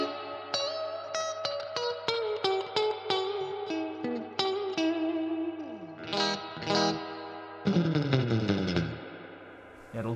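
A guitar runs through the Source Audio Collider pedal set to a bright, long, splashy reverb, picked notes and chords ringing out with lingering shimmering tails, clear and up front with no talk.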